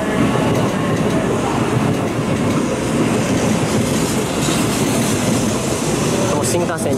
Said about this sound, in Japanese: お、これのぞみ号だ。